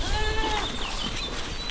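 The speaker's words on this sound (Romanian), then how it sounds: "Astea ni-s caprele." Goats bleating on a small rural farm homestead in April, several high wavering cries overlapping at close range against a steady outdoor background hum, with no clear talk.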